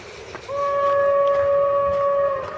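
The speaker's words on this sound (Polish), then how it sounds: "Pociąg osobowy." Passenger train on an industrial railway sounding a steady, loud two-tone horn that holds for about two seconds before fading, with faint rumble beneath.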